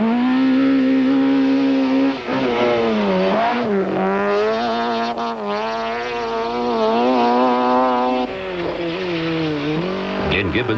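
A Toyota rally car at the 1991 Toyota Dealer Rally drives through a waterlogged back section, its engine note loud and near, rising and falling steadily as the revs shift throughout.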